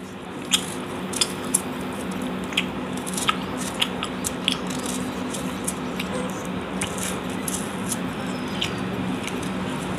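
A knife slices through an onion on a board, a person wearing a helmet, giving a steady run of crisp, sharp crunching cuts at close range over constant background hum, with no talk.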